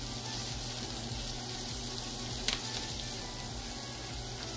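Bell peppers sizzle in a skillet as part of a sausage and peppers jambalaya, giving a steady moderate frying hiss with one brief sharper pop midway, with no talking.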